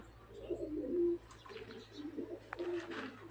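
Pigeons, including Marwari pigeons, in an indoor coop coo in low, throaty bursts close by, a few rolling calls repeating over a steady low background hum.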